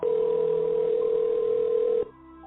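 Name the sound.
telephone dial tone and dialing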